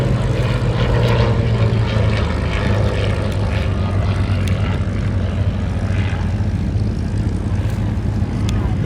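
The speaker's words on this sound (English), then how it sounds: "RAF biplane fighter, the second in the line of frontline Hawker biplanes after the Hart light bomber" A Hawker Fury RAF biplane fighter from the 1930s flies at the IWM Duxford D-Day anniversary airshow, its propeller engine droning loud and steady with a throbbing low hum, a commentator talking over it.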